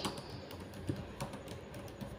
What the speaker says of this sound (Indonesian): Misalnya saya mengetik seperti ini.